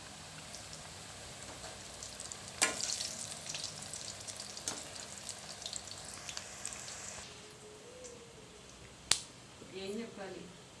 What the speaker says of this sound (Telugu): ఎలా బ్రౌనిష్ అయిపోయాయి చూడండి, కొన్ని వేగిపోయినాయి